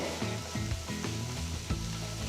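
Garlic and finely chopped red and green capsicum sauté in a pan with a steady close sizzle, broken by several soft stirring scrapes and bumps at a loose rhythm, with no talk.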